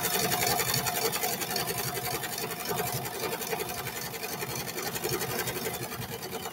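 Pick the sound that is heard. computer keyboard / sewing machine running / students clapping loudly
sewing machine running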